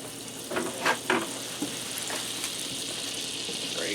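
Butter sizzles and fries in a Copper Chef XL pan with a soft, steady crackle, broken early by a few clinks and scrapes of a utensil, all close and fairly quiet.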